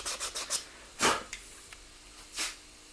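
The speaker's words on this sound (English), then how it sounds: "let me sand it for you so you can see the difference" Sandpaper rubbing HO scale model railway track, a run of short quick rasping strokes followed by a few louder, longer scrapes spaced apart, close and fairly quiet with no talking.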